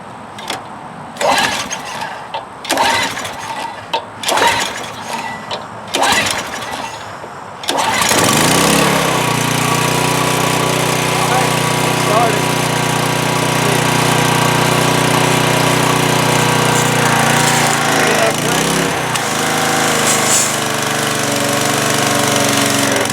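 A small pressure washer engine with a newly installed carburetor: several sharp pull-start bursts, then it catches and runs at a loud, steady, buzzing drone up close.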